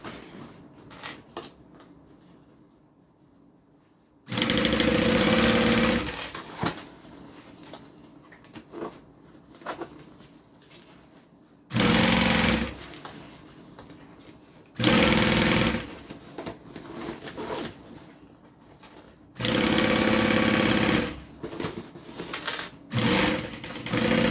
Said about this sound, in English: I'm just gonna sew and rotate